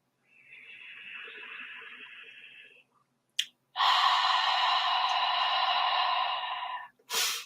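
Slow, deliberate breaths during a voice and rib-opening exercise: a long, airy inhale, a brief pause, then a longer and louder exhale, close and alone.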